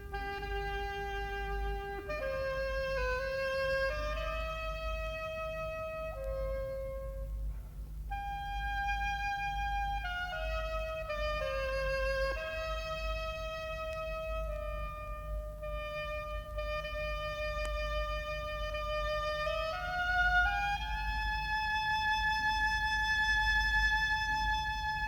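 A solo oboe plays a slow, mournful melody of long held notes, reedy and clear, over a faint low rumble.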